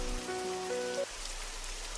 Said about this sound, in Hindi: भैया, ये बारिश नहीं रुकने वाली।